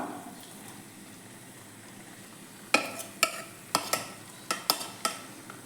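Spoon scraping and stirring bitter gourd masala in a pan, beginning as a quiet sizzle and then giving a series of crisp, close clicks and scrapes at a loose, irregular rhythm.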